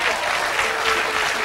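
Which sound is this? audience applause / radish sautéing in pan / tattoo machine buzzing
audience applause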